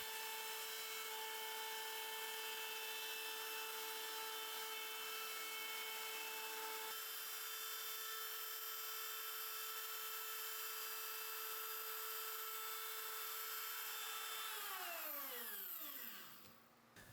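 A plunge router cuts a truss rod channel into a wooden guitar neck, a loud steady high-pitched whine that holds for about fifteen seconds, then spins down and fades out as the motor is switched off.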